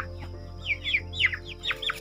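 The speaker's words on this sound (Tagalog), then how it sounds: "ang mga silky chicken" Several silkie chickens cluck in short, soft bursts, a few quick notes at a time, close by over a low steady hum.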